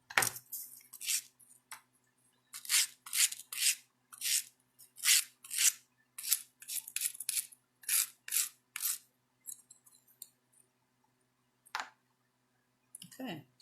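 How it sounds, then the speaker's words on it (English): Metal snips cutting off the end of a fold-formed metal leaf, a quick run of close, sharp clipping snaps in bursts, then a pause and a couple of isolated snips at the end. "I'm going to just snip that off because that just doesn't look right to me"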